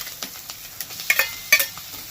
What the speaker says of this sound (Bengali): এই মাছটাকে আগে ভেজে নিতে হবে